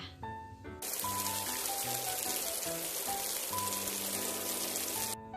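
Steady, dense rain hiss pours down for several seconds over faint background music, starting and stopping abruptly.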